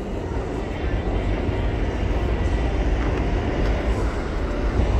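A steady, loud rumble of a New York City subway train running close by, with a dense roar that holds for the whole stretch.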